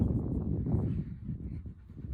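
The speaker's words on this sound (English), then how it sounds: "He's a good dog." Dog panting close by with soft whimpering, steady breathy rhythm throughout, no talk.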